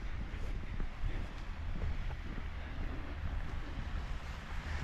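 Wind at Glacier National Park buffets the microphone in a steady, faint, rumbling rush that continues without breaks and without speech.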